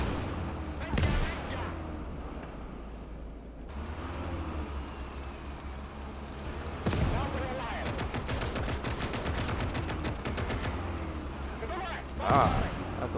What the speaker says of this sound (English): The accurate mortar fire is not fun.